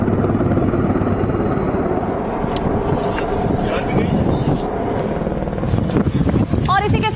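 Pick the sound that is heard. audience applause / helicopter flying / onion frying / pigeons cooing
helicopter flying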